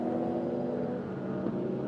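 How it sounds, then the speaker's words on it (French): Lamborghini Huracan race car on the Magny-Cours circuit in France, its engine a steady, moderately loud drone throughout with no voices, as the car runs in a slow queue behind others. "Regardez cette superbe Lamborghini Huracan"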